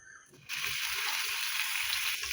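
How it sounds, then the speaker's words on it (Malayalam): Paneer cubes hit hot oil in a pan and a steady, bright sizzle takes over after a brief quieter moment, continuing loud and close without talk. "ടേസ്റ്റ് കൂടാൻ വേണ്ടിയാണ് നമ്മൾ എണ്ണയിലൊന്ന് മുരിച്ചെടുക്കുന്നത്."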